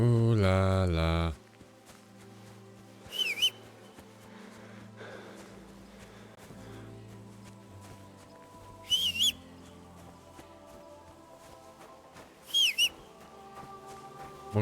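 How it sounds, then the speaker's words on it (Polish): A person whistles short, high chirping phrases in the game Kingdom Come: Deliverance II, three brief bursts spaced several seconds apart over quiet music and ambience. "Mogę gwizdać i gwizdać, ile ja chcę."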